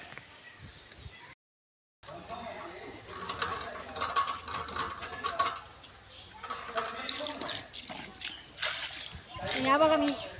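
A pulley ratchets and clanks as a bucket is drawn up from a household well in rural Devgad, Konkan, with water splashing near the end. People talk throughout.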